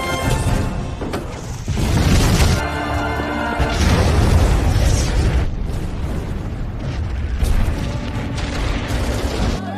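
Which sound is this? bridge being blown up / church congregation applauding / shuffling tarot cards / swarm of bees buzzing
bridge being blown up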